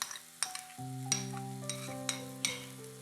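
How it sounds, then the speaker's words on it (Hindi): Curd and onion paste fries in a pan, a soft sizzle with clinking stirring strokes of a utensil against the metal roughly every half second, alongside a sustained tonal ring. "अब हम इसमें दही और प्याज का जो पेस्ट बनाया था हमने, वो हम इसमें ऐड कर देते हैं"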